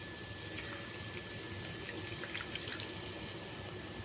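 Water poured into a pan of softened onions and turmeric while cooking chicken gravy, a soft steady running and sizzling wash with a few faint drips, low and continuous without talk.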